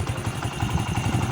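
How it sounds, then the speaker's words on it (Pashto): A Honda CD 70 motorcycle, a 2025 model in clean condition, idles nearby with a rapid, even low putter, loud and steady for the whole moment. "دغه د انجن اواز دی"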